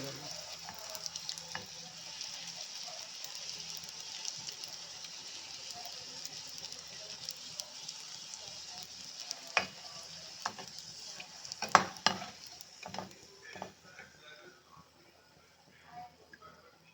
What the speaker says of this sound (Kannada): ಸ್ವಲ್ಪ ಕೆಂಬಣ ಬರೋವರೆಗೂ ಆ ಕಡೆ ಕಡೆ ಫ್ರೈ ಮಾಡ್ಕೊಂಡು